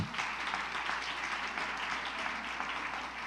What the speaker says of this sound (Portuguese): queria que vocês aplaudissem a Deus pela vida do nosso pastor Marcos